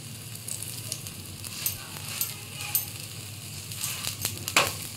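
A cabbage paratha fries in oil on a pan, giving a steady sizzle with light crackles and a few sharper pops and scrapes near the end.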